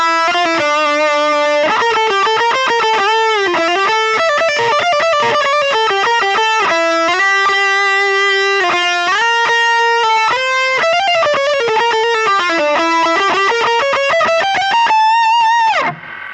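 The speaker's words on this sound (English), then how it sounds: "I've added a Tubescreamer in front of it with a moderate gain and a lot of level to really boost the amp" An electric guitar plays a sustained, singing lead line through a Tubescreamer overdrive boosting the amp into thick distortion. Held notes and bends run loud and continuous, with a brief drop near the end.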